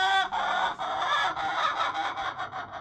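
A flock of ducks on a small farm gives loud, continuous honking quacks, several birds calling over one another in ragged overlapping bursts close by.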